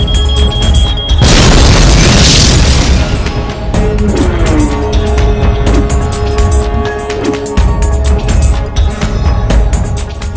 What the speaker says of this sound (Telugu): బాంబును తయారు చేసి టెస్ట్ చేశాం.